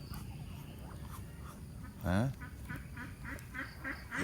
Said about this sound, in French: Le vilain canard noir.